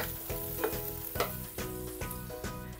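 Garlic and small onions sauté in a hot pan for paksiw, a steady close sizzle broken by periodic stirring scrapes and clinks at a regular pace, with no talking.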